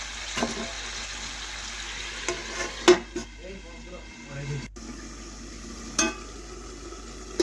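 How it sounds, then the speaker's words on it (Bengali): Chicken and potatoes being stirred in a frying pan, a steady sizzle with a few sharper scrapes and knocks of the spoon against the pan, faint talk in the background. "এখন আলুগুলো নাড়াচাড়া করে মিশিয়ে আমি 1 থেকে 2 মিনিট ঢাকা দিয়ে রেখে দেবো"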